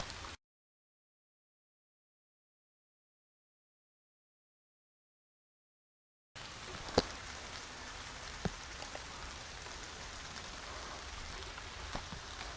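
Steady soft patter of light rain with a few sharper drops, starting after a brief sound and several seconds of silence.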